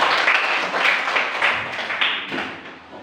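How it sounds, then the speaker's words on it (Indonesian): A class of students clapping together in a classroom, a dense, steady patter of many hands that stays loud throughout and fades slightly toward the end. "Baik, semua tepuk tangan dulu."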